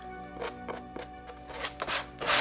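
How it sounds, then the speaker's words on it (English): Fingernails scrape across soft terracotta clay on a pumpkin form in a series of short, close, rasping strokes that grow louder toward the end. "So I'm going to use my talons to scrape that off a little bit more."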